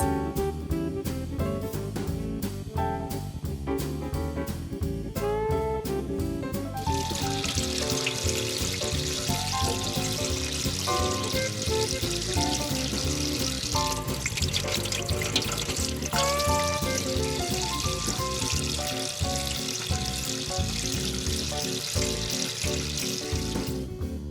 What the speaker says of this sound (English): we wash our hands